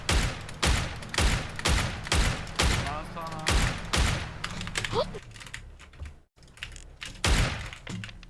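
Gunfire in PUBG: Battlegrounds, heard as a string of sharp, loud shots in quick bursts with brief pauses between volleys, and a voice talking faintly underneath.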